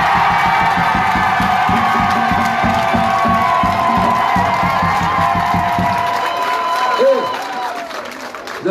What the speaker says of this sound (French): On applaudit les rouges, les Chabanais